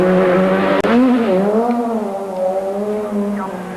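A Group A Vauxhall Astra GTE rally car, front-wheel drive, is driven hard through corners near a bridge at Chatsworth House, its engine loud and close, revving up and down with a brief sharp cut as the pitch swoops.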